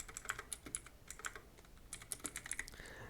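Keys clatter on a computer keyboard in short bursts of quick, light taps with brief pauses between them, faint and close, with no voices.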